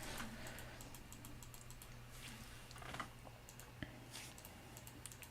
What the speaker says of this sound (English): I wish there was a way to get rid of the mouse clicks, but hopefully they're not too loud